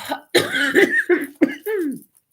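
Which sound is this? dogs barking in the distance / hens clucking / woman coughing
woman coughing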